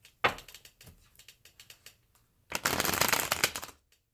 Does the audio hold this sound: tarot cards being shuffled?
yes